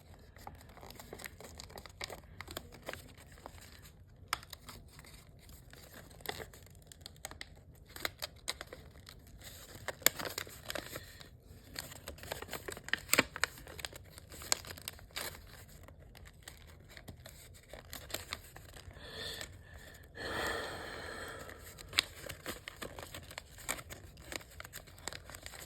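Paper is creased and folded back in for an origami Draken, soft close crinkling and scattered light taps running continuously through a quiet room.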